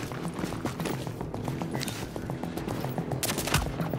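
Rapid bursts of gunfire from the online shooter game The Division's Dark Zone crackle in a dense, steady stream of close shots, with a louder cluster near the end.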